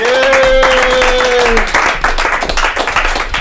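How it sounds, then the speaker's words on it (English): An audience at a comedy show claps for a comedian; a brief tonal sound opens, then steady, close, dense clapping fills the rest. "Give a round of applause for Nick Ryback, everybody!"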